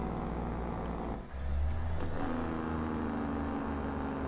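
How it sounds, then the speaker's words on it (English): In American Truck Simulator, a truck's diesel engine drones under engine braking, a steady low rumble that dips briefly and then picks up again with a whirring tone, close and continuous with no talk. "A little bit of engine brake."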